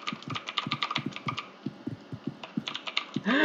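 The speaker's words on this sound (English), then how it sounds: "I started jitter clicking" A mouse is jitter-clicked rapidly during a video game, a dense run of sharp close clicks in quick irregular bursts with a brief pause partway through and a louder rush at the end.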